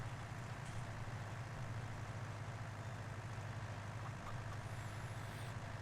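A skid steer loader drives along in Farming Simulator 19, its engine a steady low diesel drone with a constant hum underneath, unchanging and fairly close, with a faint high whine near the end and no talk.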